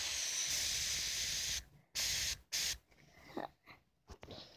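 Baby oil sprayed from a pump spray bottle while making glue-free slime: one long hissing spray followed by two short close bursts, then a few faint handling sounds in a quiet room.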